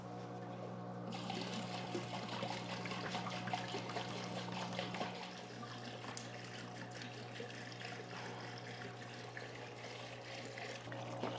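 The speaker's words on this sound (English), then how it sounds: "I'm going to be using a diluted nutrient, so about 1/2 of a teaspoon per gallon to fill up my buckets" Water runs steadily into hydroponic buckets being filled with a diluted nutrient solution, giving a continuous close trickling and pouring wash with a low hum beneath, no speech.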